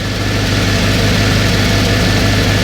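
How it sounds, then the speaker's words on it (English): A Morris Minor car engine idles at 1500 rpm, loud and steady, rumbling close by, even and continuous with a low vibrating hum throughout. "It's idling at 1500,"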